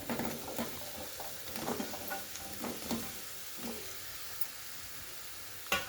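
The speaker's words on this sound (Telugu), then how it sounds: "ఇప్పుడు ఉల్లిపాయలు వేసేద్దాం" Small sambar onions dropped into hot oil in a pan, giving a soft, steady sizzle with scattered crackles and a few stirring scrapes, fairly faint and without talk.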